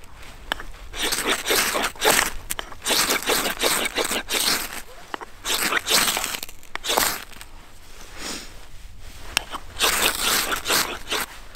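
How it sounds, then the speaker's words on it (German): A Fällkniven F1X knife spine is scraped along a ferro rod fire steel in repeated harsh, gritty strikes, loud and close, with short pauses between the bursts. "Also die Feuerstahlbedienung ist jetzt grundsätzlich kein Problem."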